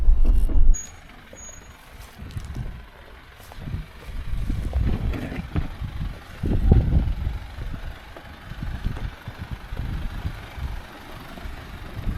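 A 2024 Toyota Landcruiser 79 series descending a rutted mountain track on downhill assist, giving a low rumbling engine and drivetrain drone that surges and pulses with faint clicks and creaks from the vehicle.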